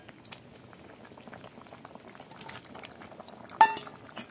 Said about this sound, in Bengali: এটাকে এবার ভালো করে ফুটিয়ে নেব একটু